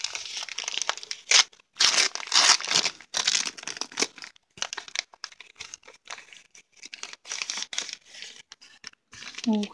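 Gift paper from a wrapped advent calendar present being unwrapped, with repeated close crinkling, crumpling and tearing bursts in irregular rhythm for several seconds; a short vocal sound comes near the end.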